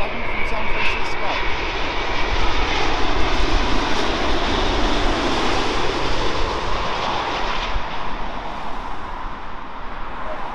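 A Virgin Atlantic Boeing 787 Dreamliner arriving from San Francisco roars loudly and continuously overhead, a broad steady jet-engine rumble, with a voice heard over it.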